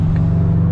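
A car engine idles with a steady low rumble and swells slightly as the throttle pedal is tapped lightly in Colorado traffic, heard close and loud for a brief moment.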